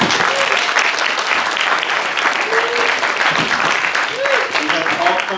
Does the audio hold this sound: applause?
yes